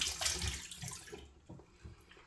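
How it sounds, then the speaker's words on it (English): Tap water running into a bathroom sink for rinsing a face, a close, soft splashing and trickling that fades after about a second into faint gurgles and small splashes. "I'm gonna give the face a rinse. Cold water now"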